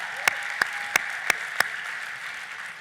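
An audience at a Netroots Nation 2018 keynote keeps up steady applause in the background, while five sharp, close claps stand out at a roughly even pace.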